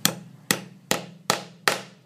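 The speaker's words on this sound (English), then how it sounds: "then simply using the heavy brass hammer," Five heavy blows from a brass hammer pound sheet metal into a dome, each a sharp ringing clang at an uneven pace, close up with a low hum underneath.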